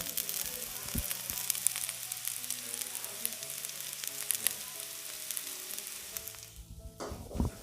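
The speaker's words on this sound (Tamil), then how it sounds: "இந்த வதங்கிற சவுண்டு பாருங்க எப்படி கேட்குது" Vegetables with green chili sizzle steadily in a hot pan with occasional stirring clatter, a dense crackling hiss that eases toward the end.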